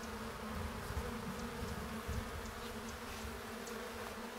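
Honey bees buzz steadily around an open hive during a spring inspection, a dense continuous drone close by with no voices.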